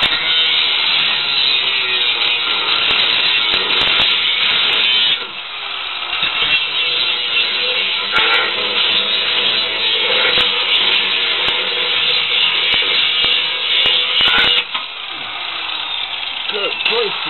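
A power tool cutting through a coil spring on a Monte Carlo, giving a loud continuous grinding, sawing whine that runs almost the whole time, briefly easing midway, with a person talking over it.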